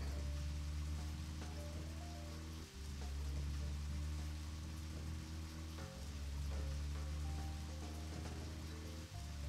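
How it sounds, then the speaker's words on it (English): Steady rainfall in the video game Deadly Premonition, a continuous hissing wash over a low droning ambient hum, fairly faint and unbroken with no talking. "rain is acting as white noise"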